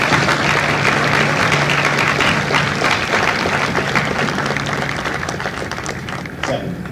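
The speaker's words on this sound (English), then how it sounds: "Give yourselves a round of applause." Audience at a Marine Corps recruit graduation ceremony at MCRD San Diego breaks into sustained, loud crowd applause, many hands clapping densely throughout before easing slightly near the end.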